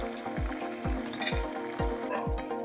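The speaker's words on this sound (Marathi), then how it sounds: "तर हे बघा आपण अशा खरपूस पर्यंत असं हे तळायचं आहे" Kothimbir vadi, coriander fritters, fry in hot oil with a steady dense sizzle and bubbling, close and continuous, with faint rhythmic low thumps underneath.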